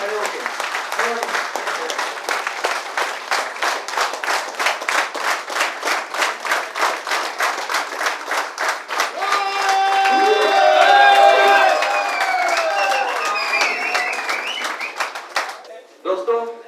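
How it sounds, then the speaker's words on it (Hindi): Loud applause from a standing audience at a hotel event, dense clapping sustained for about fifteen seconds with scattered whoops and cheering rising midway before it fades. "एक बार सर के लिए जोरदार तालियां हो जाए। वो भी खड़े होके"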